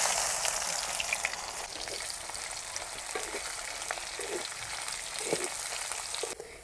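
Chopped onion sizzles loudly in hot oil with bay leaf, black cumin and cumin. The frying crackle is steady, punctuated by soft stirring clicks, with no talking.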